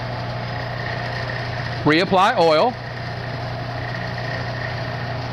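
A drill press runs with a quarter-inch bit drilling aluminum, a steady mid-level mechanical hum with a constant tone throughout, and someone speaks briefly over it.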